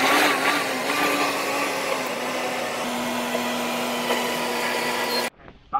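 A two-post car lift raising a vehicle for a body-off job on a car with a catastrophic engine failure, giving a loud continuous motor whine and hum that cuts off sharply near the end, followed by brief faint shop noise.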